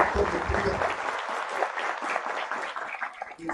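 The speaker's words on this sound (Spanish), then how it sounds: "Un fuerte aplauso para la carrera del doctor Montilla" Audience applause at a university graduation ceremony for professional degrees, a sustained wash of many hands clapping in a large room that holds steady throughout, with a voice faintly over it at the start.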